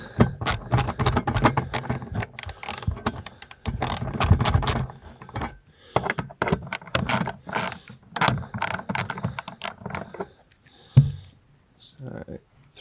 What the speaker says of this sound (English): a 10mm socket, and we're going to undo